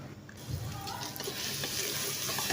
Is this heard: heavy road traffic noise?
no